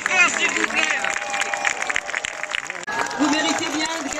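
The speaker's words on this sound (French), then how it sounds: "veuillez l'applaudir encore très très fort s'il vous plaît" A crowd at an outdoor march event claps, with scattered applause mixed into lively chatter and voices around the gathering.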